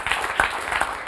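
Audience applause after a host asks the room to clap for a panel-show questioner, a short burst of many hands clapping with slightly louder swells, no talking over it.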